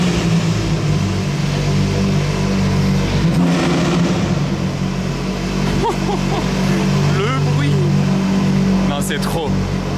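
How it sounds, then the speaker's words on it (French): A Ferrari supercar engine revs loudly inside an underground parking garage, its sound echoing off the concrete, with people talking over it throughout. "Au moins on l'entend résonner dans le parking là en plus"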